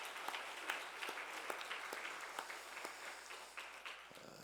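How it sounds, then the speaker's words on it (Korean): A congregation claps in encouragement for students at an early-morning special prayer service in a church, a faint, distant, steady patter of many hands with a few sharper claps standing out, no talking. "우리 힘찬 격려의 박수 한 번 해주시겠습니다"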